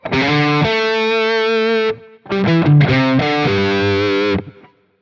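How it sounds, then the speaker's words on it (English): Heavily overdriven electric guitar through a Quad Cortex modeler plays thick sustained chords and a short riff, loud and close, with a brief gap between phrases. "And that's just a really thick overdriven sound."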